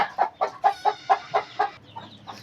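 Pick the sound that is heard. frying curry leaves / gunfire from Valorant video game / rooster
rooster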